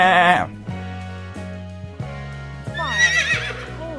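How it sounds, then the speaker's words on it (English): A farm horse neighs, a high wavering whinny that rises near the end. Lower sustained tones run underneath through the short stretch. "Finally, let's hear from our majestic friends, the horses. Listen to their neighing."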